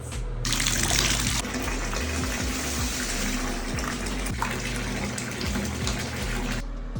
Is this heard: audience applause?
no